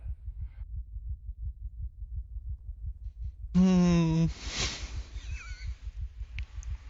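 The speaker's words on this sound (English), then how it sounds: "I can hear my heartbeat, that's not a good sign" Heartbeat sound effect in the video game Arma 3, a steady low double thump repeating throughout, moderately loud, with a brief tonal burst and other game noises partway through.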